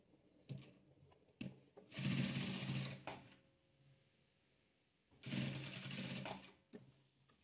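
A sewing machine stitching pieces of a patchwork quilt, running in two longer bursts with a few short clicks and taps between them, close and fairly quiet.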